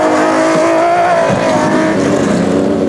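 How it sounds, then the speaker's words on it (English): An off-road race vehicle, a Nissan Hardbody in the 2003 Caledon 400 off-road race in South Africa, drives under loud, sustained engine power with a constant roar. "Probler and Leek were on a charge in the Nissan hardbody and had passed special vehicle leaders Dowse and Ormerod"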